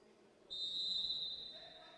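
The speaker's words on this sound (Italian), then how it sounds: "Arriva il fischio degli ufficiali di campo" Referee whistle at a basketball game gives one sharp, sustained blast of about a second that then fades, over quiet arena background.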